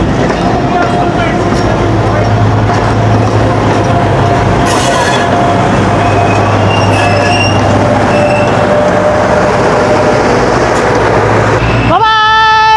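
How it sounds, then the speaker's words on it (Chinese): The Alishan small train pulls away with a loud, steady rumble of wheels on rail and a few squeals, and its horn sounds near the end. Voices can be heard faintly under the train noise. "火车要走喽。"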